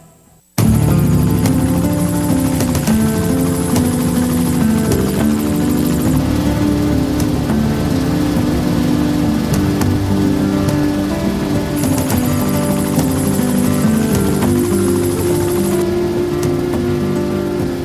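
Helicopter flying near Churchill Falls, a loud, steady engine and rotor drone that holds continuously throughout with no speech over it.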